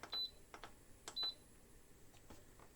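Instant Pot beeps twice, each a short, high electronic tone, as a 25-minute high-pressure timer is set on the manual setting, with faint button taps and light handling clicks around them, close but quiet.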